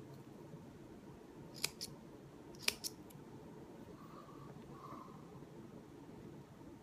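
Two or three crisp snips of shears cutting cotton wick sharply against a quiet, hissy background, spaced a second apart.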